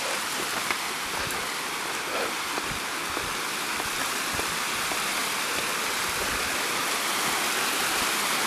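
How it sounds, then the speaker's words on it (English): The hidden waterfall at Hanging Rock State Park rushes in a steady, dense roar of falling water, continuous and even throughout with no voices. "this is called the hidden waterfall."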